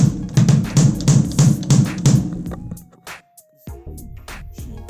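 Rock-tuned kick drum with a different brand of head, a series of punchy low thumps in a quick pattern, followed by a pause and a few further hits, recorded close.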